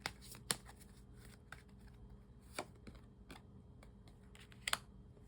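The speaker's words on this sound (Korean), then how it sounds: "조언 카드를 뽑아볼게요." Tarot advice cards are shuffled and drawn by hand, giving soft, close papery flicks and taps with a few sharper slaps spaced irregularly, quiet overall with no talking.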